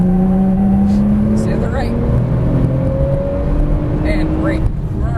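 Car accelerating hard out of a corner on a race track, its engine note rising and droning steadily beneath a driving instructor's continuous spoken coaching.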